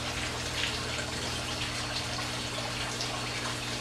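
Water splashes steadily onto freshly planted wild rice seed in soil, a continuous gushing pour with a faint low hum beneath and no pauses.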